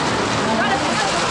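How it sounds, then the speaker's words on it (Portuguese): Steady, loud downpour of heavy rain heard from inside a moving truck, a dense unbroken hiss filling the whole moment. "Tá chovendo. E muito."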